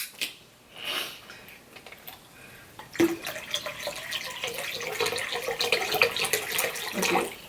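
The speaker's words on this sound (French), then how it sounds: "Après avoir mis de l'eau, tu mets du Perrier." Perrier sparkling water poured into a bowl: a brief trickle, then a sustained splashing, fizzing pour for several seconds, close by and with no speech.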